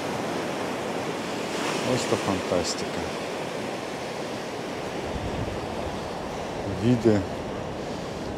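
Black Sea waves washing onto the shore near Vityazevo, a continuous broad surf roar with wind buffeting the microphone, while someone speaks briefly over it at two moments.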